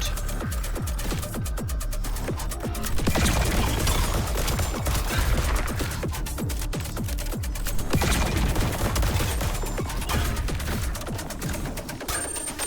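Dense, continuous gunfire from the video game Void Breaker, with loud rapid shots rattling almost without pause and heavy impacts layered throughout.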